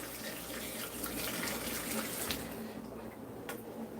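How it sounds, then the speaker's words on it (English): Water runs steadily from a tap while hands are washed beneath it, a continuous close splashing rush with small shifts as the hands move through the stream. "So I wash my hands."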